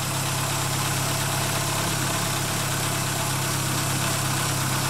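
A cold Renault Twingo engine idles steadily before a Mécarun additive treatment, a constant low rumble and hum that holds even and loud throughout with no talking.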